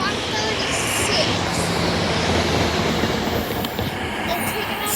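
Airport-bound train 33 coming in at Elkins station, a loud, steady rolling rumble with faint high wheel squeals drifting over it.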